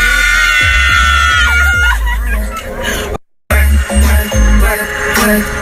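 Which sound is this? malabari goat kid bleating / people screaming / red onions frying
people screaming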